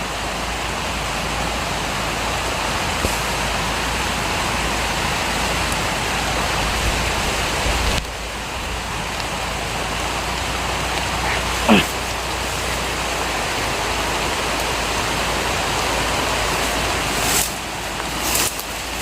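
Heavy rain pours continuously, a loud broadband roar that shifts slightly partway through, with a brief faint whoosh passing near the middle.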